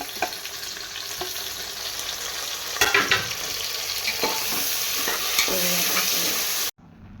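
Tomatoes going into onions already fried red in a pan for a quick biryani, giving a steady close frying sizzle with stirring scrapes and a few clatters before cutting off near the end.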